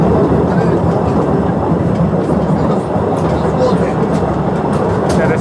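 A small tourist train rumbles through Postojna Cave in Slovenia, a loud continuous roar of wheels and carriages echoing in the enclosed cave, with indistinct voices under the din.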